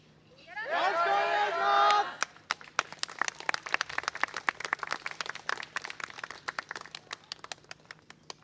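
A crowd at the Hadano Genki Festival 2022 claps along with the Tokai University Hibiki yosakoi dance team. A voice rings out first, then crisp hand claps follow in a steady, even rhythm, fairly close and continuing alone.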